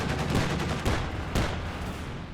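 Anti-air quad guns in Company of Heroes 2 fire at four planes, producing a dense, continuous rattle of gunfire with a few heavier bursts standing out, loud and close, with no talking.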